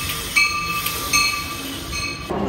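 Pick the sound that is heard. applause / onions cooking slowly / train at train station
train at train station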